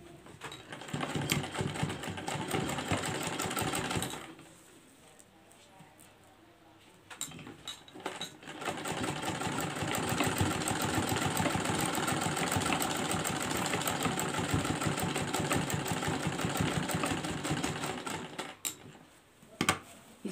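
Sewing machine stitching silver lace onto a kurti, a steady rapid mechanical whir and needle chatter that runs in two long bursts with a short pause between, close and loud, with no voices.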